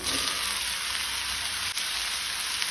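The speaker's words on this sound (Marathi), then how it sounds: "कांदो आनी टमाट तळसून जाले तातूंत हांव शिनून घेतिल्ली भाजी घालता" Chopped ivy gourd hits a pan of fried onion and tomato, producing a steady, fairly close frying hiss with a single small bump partway through.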